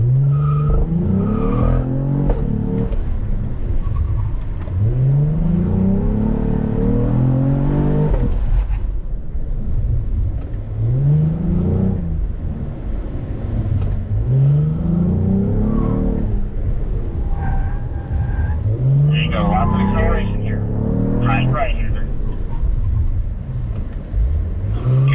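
Corvette Stingray or Blackwing lapping a track at speed, the engine repeatedly revving up through gears in rising sweeps, with tire squeal and brief lifts between pulls, loud and close throughout.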